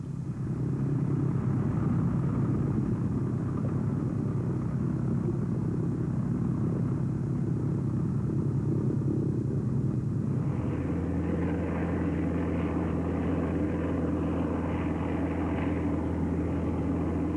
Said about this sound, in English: the 154 took to the air on its maiden flight